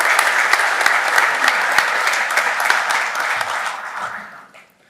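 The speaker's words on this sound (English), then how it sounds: "A round of applause, please." Audience at a district meeting and election claps for the CEO, a full, steady burst of applause lasting several seconds before dying away.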